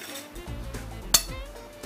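Quiet handling noises, then a single sharp metallic clink of a spoon against a serving plate while two spoons lift tomatoes onto it, followed by soft scraping.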